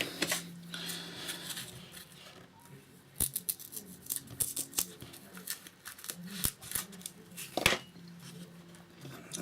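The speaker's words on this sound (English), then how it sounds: "So we've just cut that again" Masking foam being cut with scissors at a workbench, a quiet series of sharp snips and clicks scattered amid soft handling noise.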